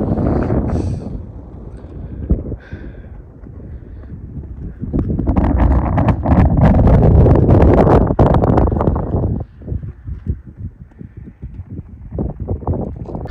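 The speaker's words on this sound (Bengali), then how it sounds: "হাওয়া দিচ্ছে, ঠান্ডা হাওয়া।" Cold wind gusting across the Namkila mountain pass on the road from Kargil to Leh in Ladakh, heavy low buffeting that swells loud in the middle and then drops to uneven gusts.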